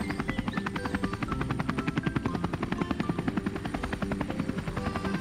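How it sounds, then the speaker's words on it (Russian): A cartoon helicopter flying, heard as a steady, loud, rhythmic rotor chop that beats evenly throughout, with no voices over it. "Смотрите, вертолет летит."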